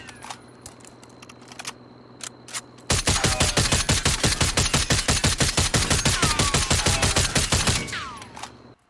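DMR rifle in Call of Duty: Warzone firing at a vehicle, a few scattered shots and then a long rapid string of loud, evenly spaced gunshots with clinking impacts until it stops.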